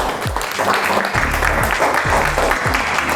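Classroom applause as students clap for their classmates, a dense continuous patter of many hands with a voice rising briefly over it.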